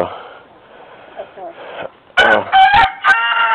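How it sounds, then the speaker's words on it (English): Chickens cluck and squawk loudly near the listener as they tear into leftover tomato scraps, with bursts of excited calls following quieter rustling and a soft voice at the start. "so we're giving the chickens the leftover parts on the tomatoes, and they appear to be tearing it up."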